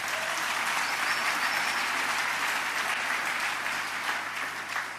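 A church congregation applauding during worship, dense steady clapping from a large crowd that continues for the whole stretch without pause.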